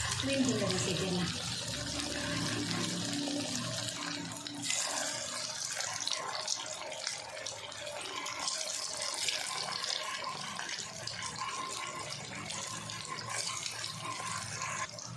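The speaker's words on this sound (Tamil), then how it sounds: "இப்போ இதில் மீன் துண்டை சேர்த்துடலாம்." Fish pieces drop into hot oil in a pan and fry on a medium flame for fish chilli, giving a dense, steady crackling sizzle that rushes like running water throughout.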